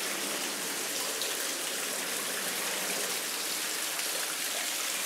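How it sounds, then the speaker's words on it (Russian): Steady rushing water pours and splashes continuously over a small waterfall on the Medvedka stream in Perm, Russia, a dense, full-bodied roar close by with no voices. "очередной водопад, очередной перепад высот"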